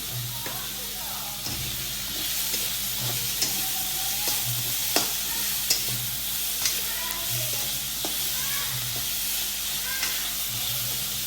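Food fries in a pan with a constant bright sizzle and hiss, broken by occasional stirring clinks and scrapes. A low background hum sits underneath, and no talking is heard.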